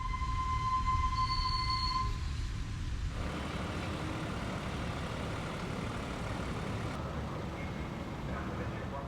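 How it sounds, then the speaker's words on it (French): A renovated Belgian railways double railcar departs toward the provinces near a level crossing in the Brussels region, a steady broadband rumble with faint wheel squeal, continuous and fairly close throughout. "Le train démarre en direction de la province en franchissant un des derniers passages à niveau de la région bruxelloise."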